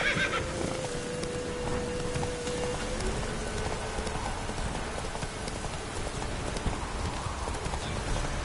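A ridden horse clip-clops along with steady hoofbeats over a constant rain-like wash of background noise, with a brief whinny-like tone early on.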